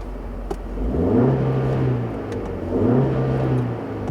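A 2015 Jeep Renegade Trailhawk's 2.4-liter Tiger Shark engine works through muddy off-road terrain, its note rising in two steady surges of revving with a smooth, mid-pitched hum between them, close and fairly loud, with no voices.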